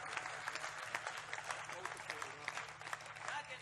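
An audience at a Hindi poetry recital claps in a steady, distant patter of applause that runs throughout, fairly faint, with a voice faintly present beneath it.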